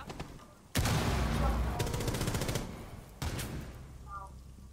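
Rainbow Six Siege gunfire: a sudden loud burst of rapid automatic shots, a brief pause, then another shorter burst, with game noise and a voice faintly present.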